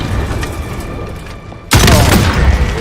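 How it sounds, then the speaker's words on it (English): A player blows himself up with a rocket in a shooter game: muffled gameplay rumble, then one sudden loud explosion that bursts in and keeps roaring with debris-like crackle. "you blowing yourself up with a rocket"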